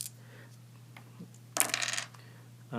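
Two dice rolled in a tabletop board game: a brief clatter and rattle on the table, close and moderately loud, over a faint low hum, with another short knock at the end.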